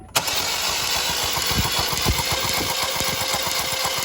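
A car engine cranks and catches almost at once, then runs at a steady, loud idle with no one speaking, while a spark tester is wired into the ignition system during a shop lab test.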